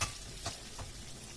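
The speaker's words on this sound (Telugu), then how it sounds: "ఇప్పుడు వంకాయ ముక్కలు కొద్దిగా ఫ్రై అయ్యాయండి" Brinjal pieces fry in a pan for a masala curry, giving a steady low sizzle with a few soft stirring scrapes, fairly faint and with no voices.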